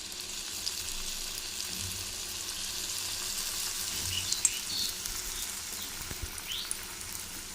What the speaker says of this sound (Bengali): আর এই যে পাশে তেল কিন্তু গরম তেল আছে, এটার মধ্যে আমি দিয়ে দেব।